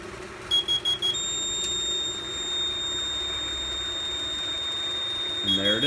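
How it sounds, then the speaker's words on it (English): An old fire alarm system is tested, with a CO detector triggering a supervisory signal: a few short beeps, then a steady high-pitched electronic tone sounding continuously, while a person talks over it. "this detector, when it goes off, will put a supervisory into this panel and activate the auxiliary relay here and set the strobe off"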